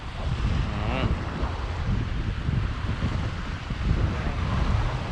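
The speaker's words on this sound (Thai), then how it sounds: "ลมมันแรง เนาะลมมันแรงเนาะ" Strong wind buffets the microphone at a seaside fishing spot on the Laem Chabang coast, a steady roaring rush with possible surf beneath, and a voice briefly audible near the start.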